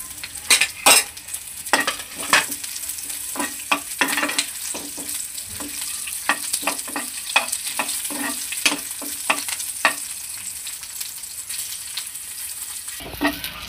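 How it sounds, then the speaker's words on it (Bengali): Dried chili, whole cumin, bay leaf and slit green chilies sizzling in hot oil, a bright continuous crackle broken by repeated sharp clinks and scrapes of a stirring utensil against the pan, close and fairly loud, with no talk. "তেল গরম হয়ে গেছে, তাতে শুকনো লঙ্কাটা ফোড়ন দিলাম, আস্ত জিরেটা দিলাম, তেজপাতা, কাঁচা লঙ্কা চিরাগুলো দিয়ে দিলাম।"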